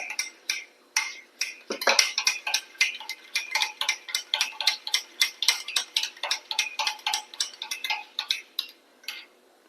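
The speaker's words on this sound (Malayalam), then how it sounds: "ഒരു ലേശം ചതച്ച മുളക് നന്നായി അടിച്ചെടുക്കുക" Eggs with crushed chilli are whisked briskly in a bowl, a fast, even run of close clicking taps from the utensil against the bowl's side, heard alone.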